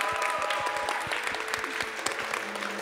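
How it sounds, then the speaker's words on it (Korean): Audience applause at an outdoor busking concert after a guitarist's duet performance, dense steady clapping sustained throughout at close range with no talk. "큰 박수 부탁드립니다"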